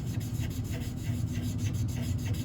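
Chisel tip of a drying marker dragged across paper, giving a steady, dry rubbing rasp with quick repeated strokes, close and fairly quiet.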